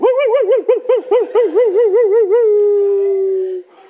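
A voice mimics dogs, giving a rapid series of yelping, wavering barks that slide into a long howl, loud and close, with no other sound.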